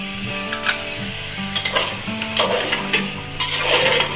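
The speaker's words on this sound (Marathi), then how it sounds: "सर्व भाज्या 5 मिनिटं शिजवून घ्यायच्या चांगल्या तेलामध्ये" Mixed vegetables and potato cook in oil for pulao while a spoon scrapes and stirs them in the pan, giving a steady close sizzle with repeated scraping strokes and no voices.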